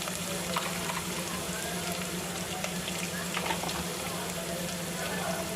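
Mustard seeds and cumin, with curry leaves and garlic, sizzle in hot oil for a Maharashtrian ghevda curry, making a continuous, even crackling hiss at moderate loudness from close by.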